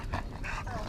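Earl the dog pants and snuffles in short, close breathy bursts across a second, with faint whimpering tones and a brief squeak near the end.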